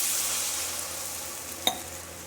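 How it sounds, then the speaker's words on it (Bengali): Fried spice masala sizzles steadily in a pan as water is added, a broad continuous hiss with one brief sharp crackle near the end, close and fairly quiet with no talking. "মশলাটা ভাজা হয়ে গেছে, এবারে একটু এতে জল দিয়ে দিই"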